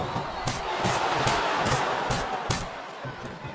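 A large crowd in the wrestling video game WWE SmackDown vs Raw 2007 roars and chants steadily, with rhythmic thuds like impacts or stomps punctuating the din.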